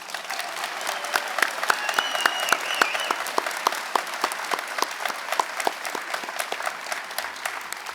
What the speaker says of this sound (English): give another round of applause to Mrs.